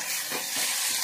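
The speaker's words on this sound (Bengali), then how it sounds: "টমেটোটা দিয়ে ভালো করে আবার নেড়ে চেড়ে আমি কষিয়ে নেব" Tomatoes with salt stirred in a hot pan for ghugni, giving a steady close sizzle and frying hiss with soft scraping strokes throughout.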